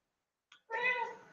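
A cat gives one brief, close meow right after a small click, in an otherwise quiet room.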